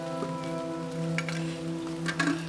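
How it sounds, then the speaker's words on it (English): Heavy rain pours steadily onto a stone cabin build site covered with boards and plastic, a dense continuous patter with occasional louder drips, close and unbroken throughout. "It's raining so much."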